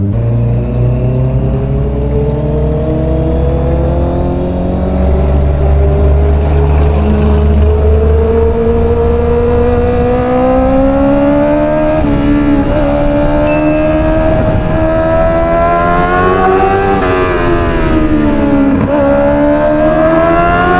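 Honda CB650R four-cylinder motorcycle accelerating on a highway, engine tone climbing through the gears with rising harmonics and brief dips at shifts, loud and close from the rider's position with wind rush underneath.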